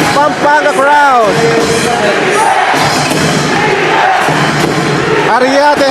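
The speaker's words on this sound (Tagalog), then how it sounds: "Pampanga crowd." A Pampanga basketball crowd at a finals Game 5 between Cam Sur Express and Tikas Kapampangan roars and cheers loudly and continuously, with whistles and an announcer's voice cutting through the din.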